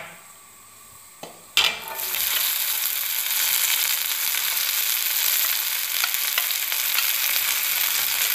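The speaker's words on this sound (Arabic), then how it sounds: "راح ندير 2 مغارف تاع الزيت كبار في مقلاة، نقطع حبه تاع البصل ونضيفها" Onion pieces dropped into two large spoonfuls of hot oil in a frying pan, giving a quiet start, a brief clatter, then a steady, loud, continuous sizzle with faint crackles throughout.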